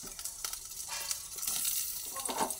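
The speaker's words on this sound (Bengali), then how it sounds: "কড়াইয়ের মধ্যে আমি এরপরে পটলগুলোকে দিয়ে দিচ্ছি। পটলগুলোকে দিয়ে পটলগুলোকে ভেজে নিচ্ছি।" Pointed gourd (potol) pieces frying in hot oil in a wok, a soft crackling sizzle with light bursts of spattering and a few stirring scrapes, quiet and close.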